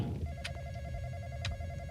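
A phone rings inside a Roblox ghost-hunting game, with sustained tonal ringing and two short bright trills about a second apart over a low rumbling background.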